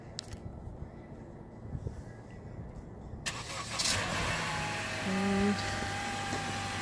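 A 2016 Honda Civic starts by remote start after a heavy frost night, heard from a short distance outdoors as a quiet background gives way to the engine catching and settling into a low, steady idle.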